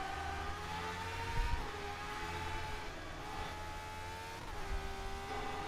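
A race car engine revs and climbs through the gears while lapping Lakeside Park circuit, a whining tone rising and dropping in repeated sweeps, moderately loud with no talk.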